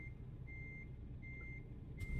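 Semi truck reversing in the CarX Street racing game, its backup alarm beeping steadily in evenly spaced tones over a low engine rumble.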